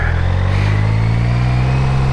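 A BMW K75 motorcycle pulls away on a back road near Front Royal, Virginia, its steady mid-pitched engine drone loud and close throughout, with no voices.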